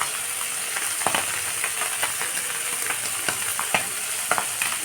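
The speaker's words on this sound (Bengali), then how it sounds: "মাছটাকে লবণ হলুদ দিয়ে ভেজে নিলাম" Small moya fish coated in salt and turmeric fry in hot oil with a loud, continuous sizzle, broken by repeated scraping taps of a spatula stirring in the pan.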